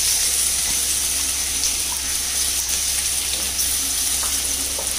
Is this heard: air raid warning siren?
no